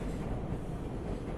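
A New York subway R142 train runs between stations with a steady, heavy low rumble and rolling wheel noise, loud and continuous throughout.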